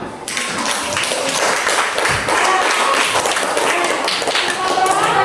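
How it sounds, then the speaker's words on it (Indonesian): A classroom full of students clapping together, a dense, lively burst of applause that continues steadily throughout. "kita berikan tepuk tangan apresiasi kepada teman-teman kelompok yang sudah maju ke depan"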